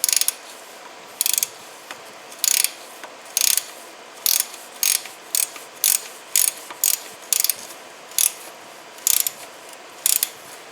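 A ratchet tightens the oil drain plug on a 2005 Honda Metropolitan CHF50 scooter, making about a dozen short, crisp clicking bursts at a steady, slightly uneven rhythm, close by with no talking.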